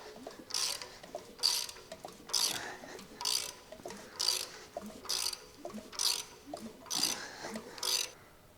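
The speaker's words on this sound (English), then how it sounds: "And turned the motor over by hand a few times here." Junkyard Ford 289 V8 engine that sat for over 45 years, turned over by hand: nine evenly spaced mechanical ratcheting clicks and scrapes, roughly one per second, close and clear with no talk.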